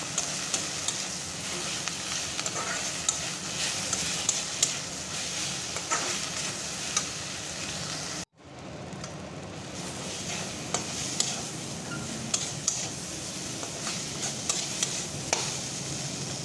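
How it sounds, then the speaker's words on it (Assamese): Continuous sizzling of drumstick leaves frying in a pan over low gas flame, a steady hiss with occasional stirring scrapes and a short break midway. "গেছৰ জুইটো কমাই দি ছজিনা পাতখিনি কিছু সময়ৰ বাবে ভাজি থাকক।"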